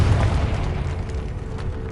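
A Confringo blasting spell explodes in Hogwarts Legacy, giving a deep rumbling boom that rolls on steadily for a couple of seconds, close and loud, with no voices.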